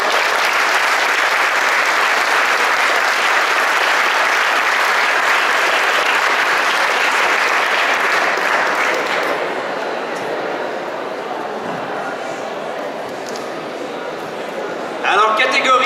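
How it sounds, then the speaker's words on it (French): Sustained audience applause fills a hall at an award ceremony for the Raymond Gervais prize, loud and dense for about nine seconds before thinning to a softer patter, with a brief burst near the end. "c'est à vous que j'aimerais donner une bonne main d'applaudissement"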